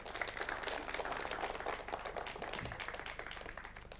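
An audience claps hands at a talk, a faint, steady patter of many hands applauding at a distance, continuing evenly for several seconds.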